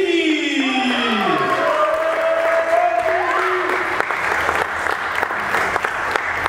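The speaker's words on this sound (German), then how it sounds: "10 Punkte Applaus jetzt auf der Stage." A stage audience at a freestyle football competition semifinal claps and cheers loudly and continuously, a dense wash of applause with some crowd noise.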